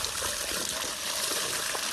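Cold irrigation water rushes and splashes steadily through a farm channel in a cotton field, a dense, continuous close-up wash with no pauses.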